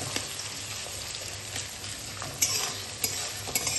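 Onion fries lightly in hot oil as a base for a simple chicken dish, a steady close sizzle with occasional sharp utensil clicks against the pan.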